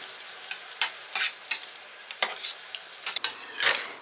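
Sour cream being stirred into a tomato sauce in a pan, with repeated close scraping strokes of a spoon over a soft sizzle, in irregular bursts.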